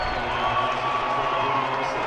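A basketball crowd roars at the CBU Event Center after a blocked shot, a steady, distant wash of cheering filling the arena with no individual voices standing out.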